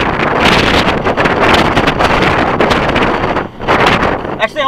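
Strong wind buffeting a microphone outdoors at a desert wash during a vehicle recovery, a loud continuous roaring rumble with gusty surges, close and overpowering.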